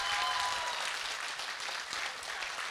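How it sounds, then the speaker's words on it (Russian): Audience applause fills the whole stretch, a steady, dense wash of clapping from a crowd at a talk, alone and fairly loud, ending abruptly. "Давайте громче похлопаем."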